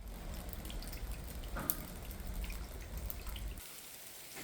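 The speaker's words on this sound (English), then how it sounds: "the rain started." Soft, steady patter of rain with scattered drips and one sharper tap, faint and continuous before thinning out near the end.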